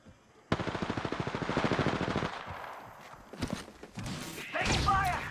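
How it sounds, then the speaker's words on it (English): Rapid automatic gunfire in the battle royale game Apex Legends, a loud sustained burst of evenly spaced shots followed by scattered impacts, thuds and game effects, with a voice briefly audible. "Taking fire."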